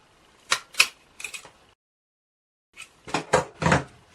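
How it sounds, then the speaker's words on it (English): Pruning shears snipping the lower end of a grape cutting to refresh the cut: two crisp, close clicks, a softer clipping sound, then a pause before three more sharp snips in quick succession. "it is necessary to refresh the lower cut using pruning shears or a sharp knife"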